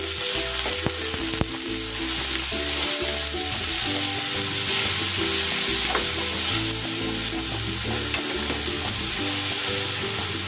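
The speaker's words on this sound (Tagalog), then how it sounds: "Ilalagay ko na rin tong kamatis." Tomato frying with onion in a pan, a loud continuous sizzle with spatula stirring and scraping throughout, over soft background music.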